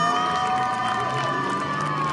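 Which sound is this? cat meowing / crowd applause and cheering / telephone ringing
crowd applause and cheering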